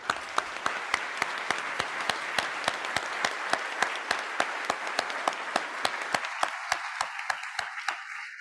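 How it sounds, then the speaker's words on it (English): A crowd applauds firefighters at an opening-remarks event, with sharp, evenly spaced claps beating in a steady rhythm over softer scattered clapping that drops away after about six seconds, leaving the rhythmic claps alone. "let's just give a round of applause to all the firefighters"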